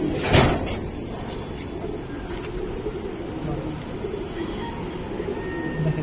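Giribaz pigeons kept in a collection coo softly, and a brief rustle or flap sounds early on, alongside nearby voices in conversation.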